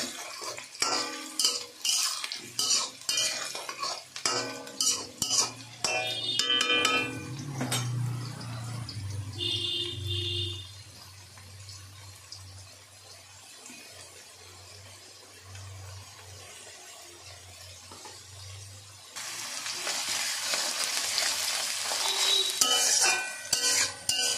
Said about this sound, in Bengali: কাঁচা লঙ্কাটা দিয়ে আমি আস্তে আস্তে একটু নেড়ে জল দিই